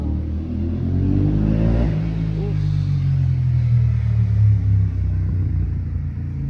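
A motorcycle's engine rumbles and rises in pitch as it passes nearby, a steady loud drone lasting several seconds.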